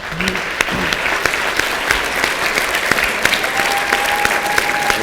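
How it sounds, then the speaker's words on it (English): A crowd of people applauding steadily for several seconds at a staged presentation about first impressions, the clapping dense and fairly loud, with a faint sustained tone appearing toward the end. "let's give a round of applause"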